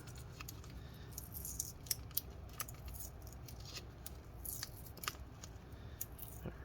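An adhesive label is peeled off a Lenovo Legion S7 15ACH6 laptop part, close-up crackling and sticky tearing with a few sharp snaps, faint and continuous.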